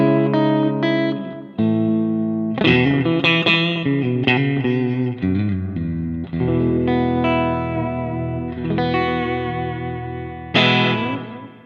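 Clean electric guitar chords and single notes ring out with lush echoing repeats and reverb tails, played alone at moderate volume.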